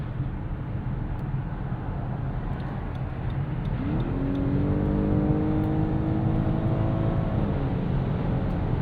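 A 2024 Lexus LS 500h hybrid sedan accelerating hard on kick-down while merging at about 50, heard from the cabin as a steady road hum that swells into a rising engine drone, holds, then eases off.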